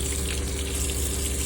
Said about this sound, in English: Got my hot water on.